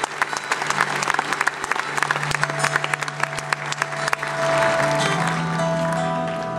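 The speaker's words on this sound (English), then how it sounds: "So a round of applause for Josette" An outdoor horse show night crowd at Equidays 2011 applauds a whip performer, with scattered claps building into thick, sustained applause in the later seconds.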